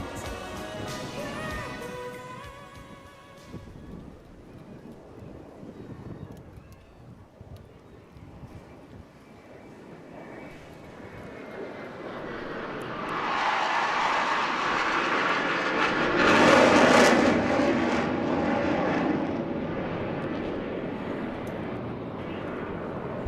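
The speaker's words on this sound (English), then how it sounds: "Please welcome Lars Martinsson in the Saab 35 Draken." A Saab 35 Draken double-delta jet fighter passes at an airshow, a broad roaring rumble building from a distant hiss to a loud peak and then slowly fading away.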